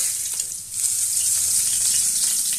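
Milkfish (bangus) steak fries in hot oil with a loud, dense, continuous sizzle and sharp splattering crackle, heard close up without talk.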